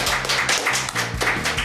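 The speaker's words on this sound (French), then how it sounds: "On les applaudit bien fort, évidemment." Short burst of audience clapping at a French evening show, a dense patter of many hands close by, with a low musical hum underneath and no talking.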